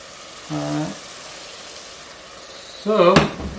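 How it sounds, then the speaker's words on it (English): A steady sizzle of onion frying in a pan runs throughout, with brief bits of speech over it. "You can fry this onion until like this golden brown and like soft."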